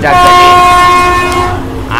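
An electric train near Mysuru airport, coasting with its pantograph lowered, sounds a loud sustained horn with steady harmonic tones, fading toward the end over low rumble.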